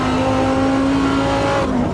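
A race car engine in the F1 25 or AMS2 racing game drones with a steady high-pitched whine that holds constant, then drops in pitch near the end as it downshifts, loud and continuous with no talk.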